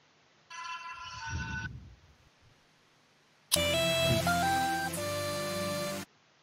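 Phone ringing during an ARMA 3 game session, a short electronic ringtone burst followed by a louder, sustained tonal ring with shifting pitches lasting a few seconds, near and clear against a quiet background.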